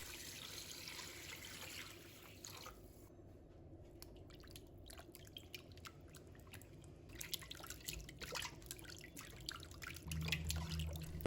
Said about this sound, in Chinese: 把它抓成有一点粘手的感觉，再往里面倒入清水，